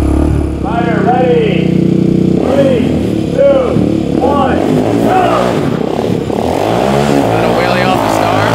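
A Honda 300EX midsize quad ATV engine roars off the start of a dirt track race, revving up and down through rapid shifts beside other quads, loud and close, with voices shouting over it.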